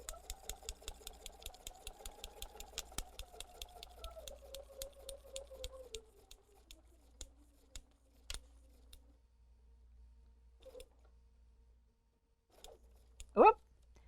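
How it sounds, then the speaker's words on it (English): A sewing machine stitches quilt fabric along a marked line in a series of quick, rapid mechanical stitching bursts that slow and stop. Faint clicks and fabric handling follow, ending in a short sharp squeak. "Okay, so we're just going to stitch on that line,"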